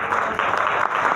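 A seated audience at a motivational talk gives brief, loud, dense applause that fills the whole moment.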